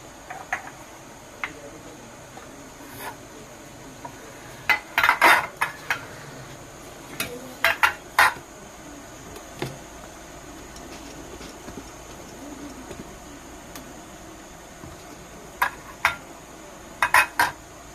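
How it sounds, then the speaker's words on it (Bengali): Metal idli bowls clink and clatter sharply in scattered bursts while being oiled in a kitchen, several quick knocks bunched together over a quiet background hum. "এখন একটু এই বাটিগুলোতে তেল দিয়ে দেবো।"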